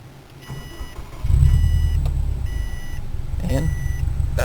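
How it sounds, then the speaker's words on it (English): A Subaru engine cranks and starts after an ECU reflash, with warning beeps chiming before a low idle rumble settles in, close by, as someone talks over it. "and now we can start the car back up again"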